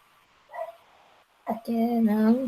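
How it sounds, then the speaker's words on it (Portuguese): Household dogs give a short yip, then a longer whining, whimpering cry. The sounds are mixed with a person talking nearby. "Ah, meus cachorros."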